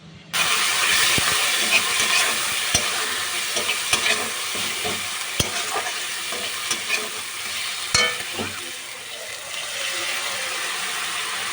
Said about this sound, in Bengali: দিয়ে ভালোভাবে মশলাটা কষিয়ে নেবো যতক্ষণ না মশলা থেকে তেল ছেড়ে আসছে